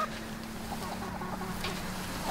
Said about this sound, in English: We have Titus on loose chicken patrol.